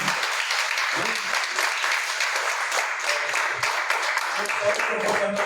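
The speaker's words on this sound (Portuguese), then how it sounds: "Uma salva de palmas para essa família." A church congregation celebrating a women's group anniversary gives a family a sustained round of clapping, bright and fairly loud, with a few voices and cheers mixed in underneath.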